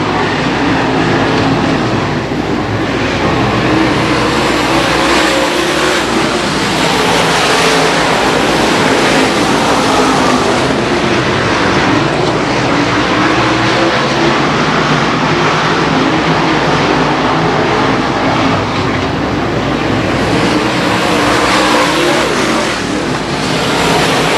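Race cars roar continuously around an oval track at a regular race program, a dense, loud wall of engine noise with rising and falling passes, no voices audible over it.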